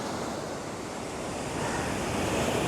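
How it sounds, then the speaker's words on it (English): Steady, full roar of sea swell washing onto Laguna Phuket beach in low season, continuous broadband surf with some wind buffeting the microphone, swelling slightly louder toward the end, no talking. "the sea, well, there's a bit of a swell"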